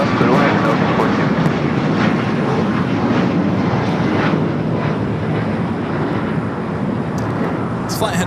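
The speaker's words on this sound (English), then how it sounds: "It's flight heading to Montreal on this Air Canada 737 MAX 8." An Air Canada Boeing 737 MAX 8 jet bound for Montreal at LAX, a steady loud engine roar lasting throughout, with wind buffeting the microphone and faint talk underneath.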